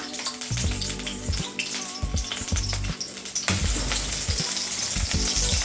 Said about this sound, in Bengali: এখন আমি দিয়ে দিচ্ছি এখানে সাদা তেল দিয়ে আমি সয়াবিনগুলোকে ভালো করে ভেজে নেব